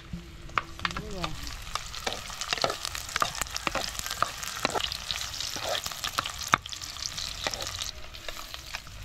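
Garlic and ginger sizzle in hot cooking oil, a steady close crackle broken by repeated clinks and scrapes of a utensil stirring in the pan, with no talk over it.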